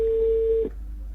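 A telephone line tone after a call is placed: one steady, clear tone holds for just over half a second and then cuts off, leaving quiet line hiss. No one speaks.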